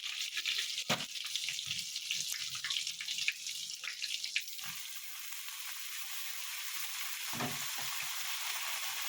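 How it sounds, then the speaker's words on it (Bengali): Cabbage tipped into a pan of fried chopped ginger sets off a steady, fairly quiet sizzle that runs on evenly, with a few knocks and stirring scrapes early on. "আদা কুচি ভাজা ভাজা হয়ে গেছে। এবার আমি এটাতে বাঁধাকপি দিয়ে দেবো।"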